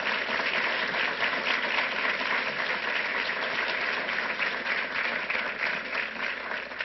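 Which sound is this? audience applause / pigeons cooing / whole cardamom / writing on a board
audience applause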